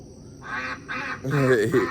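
Backyard chickens calling on a hot summer day, a few short clucking bursts in quick succession that grow louder and more layered toward the end, close by with no talk.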